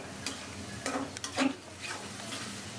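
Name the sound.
spice paste with fish oil being stir-fried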